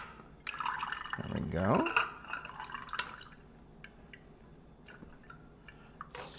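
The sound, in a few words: water dripping while purging a coffee machine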